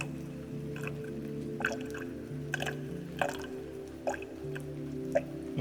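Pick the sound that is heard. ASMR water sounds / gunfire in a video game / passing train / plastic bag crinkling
ASMR water sounds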